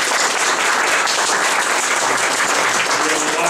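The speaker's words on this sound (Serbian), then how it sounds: "da pozdravimo autora jednim aplauzom" An audience at an exhibition opening claps in steady, dense applause that carries on evenly from start to end, loud and close, with no voices above it.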